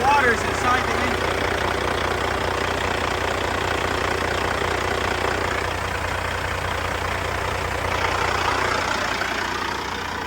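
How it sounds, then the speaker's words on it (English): A Kenworth W900 truck engine idles after sitting unused for a long time, a steady low rumble running the whole way through with a broadband noisy texture, close and fairly loud. "So I got her running for pretty much almost 30 minutes to get her to operating temperature."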